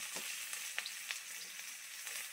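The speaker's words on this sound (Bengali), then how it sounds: "কড়াইতে দিয়ে দিচ্ছি কুচানো পেঁয়াজ," Chopped onion fries in a wok, giving a quiet, steady sizzling hiss with a few faint clicks of stirring, with no talking.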